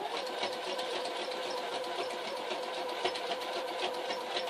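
A sewing machine hums continuously while free-motion quilting a quilt on a newspaper pattern, a steady mid-level motor whir with light rhythmic needle ticking, no voices.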